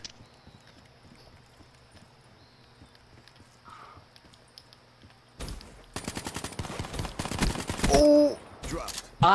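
Video game gunfire bursts in loud rapid volleys after a quiet stretch of faint ambience, with dense shots clustered over the final few seconds.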